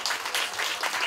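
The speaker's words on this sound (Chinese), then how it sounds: "来，掌声鼓励一下。" A crowd at an outdoor community hiking event in a wetland park in Xinyi District, Taipei, applauds with a brief, dense burst of steady clapping.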